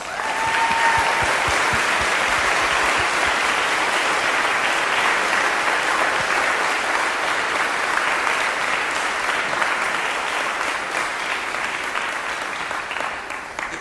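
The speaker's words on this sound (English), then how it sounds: "Give them a round of applause." Sustained audience applause at a church service fills the room, steady and dense, fading slightly toward the end, with no talk over it.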